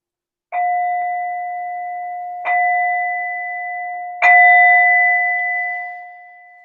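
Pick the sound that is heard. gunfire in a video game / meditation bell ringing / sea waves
meditation bell ringing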